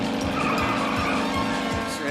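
A cartoon half-car skids with a loud, sustained tire squeal over a droning engine, filling the whole moment without a break.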